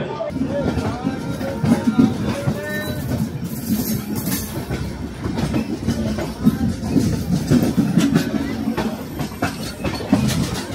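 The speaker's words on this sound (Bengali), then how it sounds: "আমাদের ট্রেন ছেড়ে দিল ইলোরু স্টেশন" An Amrit Bharat Express train running on rails just out of Eluru station, a continuous rumble with rhythmic clickety-clack of wheels over rail joints heard from inside a carriage.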